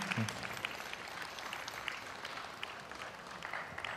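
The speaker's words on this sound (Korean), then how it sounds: "큰 박수 부탁드립니다." A concert audience at a school student orchestra's regular performance gives sustained applause, a soft even patter of many hands heard from a distance in a hall.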